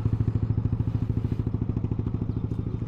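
A motorcycle fitted with a Villain exhaust pipe idles close by, a loud, even, thumping pulse with a rapid rhythmic beat holding steady throughout.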